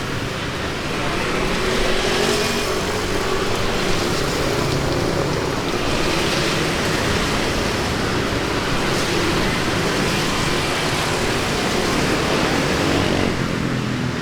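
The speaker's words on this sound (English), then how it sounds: "What a crazy loud street." A loud, dense roar of street traffic in District 3, Saigon, Vietnam fills the whole stretch, steady and broadband with swells of passing vehicles and no talking.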